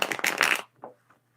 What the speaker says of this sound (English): I'm not trying to shuffle all that loud.